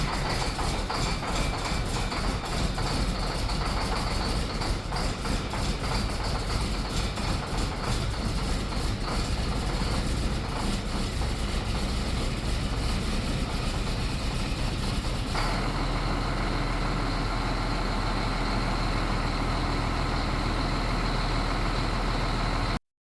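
A CAT C-12 diesel engine in an MK23 MTVR 7-ton military truck cranking and struggling to start, a loud continuous rough mechanical roar that shifts to a steadier run partway through, close and alone.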